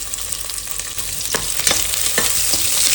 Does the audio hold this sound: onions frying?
yes